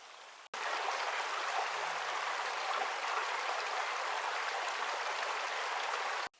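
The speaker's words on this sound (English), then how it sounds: "There's a small stream ahead, and it must be pretty full right now after all the rain from this winter." A small stream on a hiking trail in the San Mateo Peak area of Riverside County, running full after winter rain, rushes steadily and fairly loud as a continuous broadband wash of water, with no voices.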